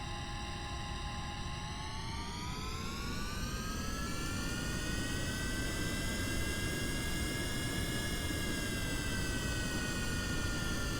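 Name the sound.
jet plane engine flying in Kerbal Space Program video game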